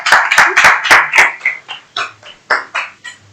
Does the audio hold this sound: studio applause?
yes